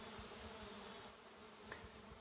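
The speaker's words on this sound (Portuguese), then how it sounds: "A nordestina e a mandaçaia aí, ó, se alimentando." Stingless bees of the boca de renda, nordestina and mandaçaia kinds feed on a concentrated syrup, giving a soft, steady buzzing hum with a few louder passes from bees flying near.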